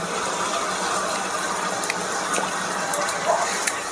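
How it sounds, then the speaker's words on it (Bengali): Water poured into simmering curry gravy in a cooking pot, a continuous close splashing gush lasting several seconds with a few small clinks, no talk. "আর সেইটুকু জল দিলে আশা করি হয়ে যাবে"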